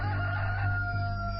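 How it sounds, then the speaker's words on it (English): A rooster crows in a dramatized audio Bible, one loud, close, sustained crow heard alone with no talk over it. "Immediately a rooster crowed."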